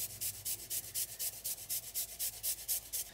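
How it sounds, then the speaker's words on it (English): Fresh ginger rubbed against a grater in a home kitchen, making a steady back-and-forth scraping rhythm of about four strokes per second, close and fairly quiet, with no talking. "Not garlic, I'm grating in some ginger."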